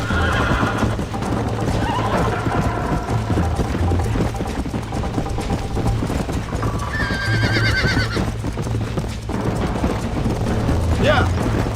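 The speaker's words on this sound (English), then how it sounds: "Corrida de cavalo é difícil, hein?" In a Wild West video game horse race, horses gallop with a constant clatter of hooves and neigh sharply several times, over a busy game soundscape with a low, steady background tone.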